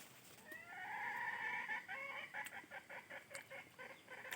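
A jungle fowl call played as a hunting decoy crows once, then breaks into a series of rhythmic clucking calls, moderately faint and heard alone.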